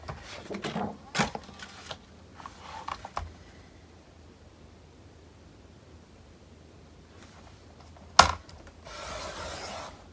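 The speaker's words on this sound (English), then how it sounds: "Let me cut another strip at 3 inch." A paper strip being cut to 3 inches for a baby girl mini album: faint scraping and a few soft rustles, then one sharp close snap followed by a brief rasping slide.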